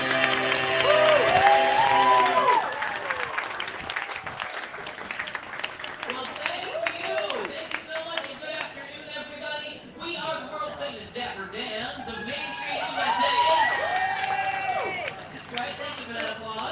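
Audience at Magic Kingdom applauding and cheering after a song, a broad wash of clapping and crowd noise filling the stretch with scattered whoops, fairly loud and steady throughout.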